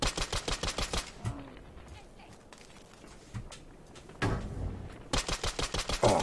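Companions fire guns in Fallout 4, rapid automatic bursts that open and close the moment, with a quieter stretch of scattered single shots and game noise in between.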